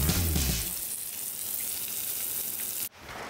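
Meat sizzles steadily on a rooftop grill, a dense, close frying hiss that holds for nearly three seconds before cutting off abruptly into a quieter tail.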